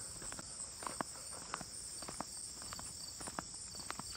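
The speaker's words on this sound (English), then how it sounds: "I love those sounds of the crickets." Crickets chirp in a constant high trill throughout, fairly faint, with soft crunching footsteps pacing along beneath it.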